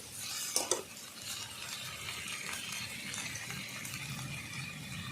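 Whole cumin, ginger, green chilli, salt and turmeric powder being stirred together in a pan for a moringa-stem and hilsa curry: a steady scraping, sizzling texture throughout with one sharper clatter near the start, no talk.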